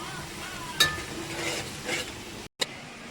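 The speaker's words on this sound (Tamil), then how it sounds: "இப்போ வந்து இதுக்கு காரத்துக்கு மிளகாய் பொடி போட்டுக்கலாம். நல்லா வதக்கிடலாம்." Tandoori chicken masala being sautéed with chili powder in a pan: a low, steady sizzle with a few sharp scrapes and clinks of stirring, plus a brief dropout near the end, with no voices.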